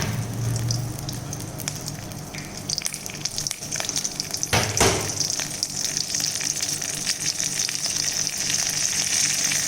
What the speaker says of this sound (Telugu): 1 స్పూన్ నూనె వేసి దాంట్లో కొంచెం ఆవాలు వేసి